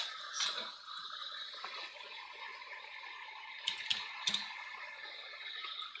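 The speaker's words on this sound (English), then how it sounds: "Also, I know you can hear my keyboard." Soft keyboard typing at a computer during a Minecraft session, quiet scattered key clicks with a few sharper taps over a steady low hiss, close and faint, no talking.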